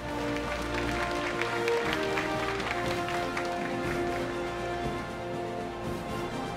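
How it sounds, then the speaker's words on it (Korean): A crowd applauds continuously in a large hall at an esports award ceremony for a KartRider team final, clapping blending into a steady wash while background music plays underneath. "여러분 다시 한번 경의 박수 부탁드립니다"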